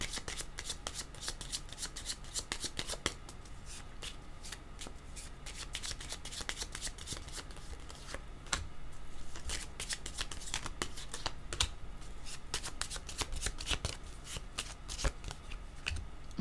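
Tarot cards are shuffled over and over in a quiet room, a soft, fast riffling and flicking of the deck, close up and continuous, with no speech.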